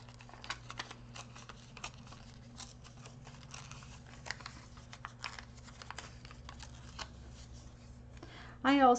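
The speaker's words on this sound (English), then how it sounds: "this is just doodles on copy paper, and I'm just tearing them out" Doodled sheets of copy paper are torn out one after another, giving soft, irregular ripping and rustling close by with faint papery clicks, ending in a brief louder burst.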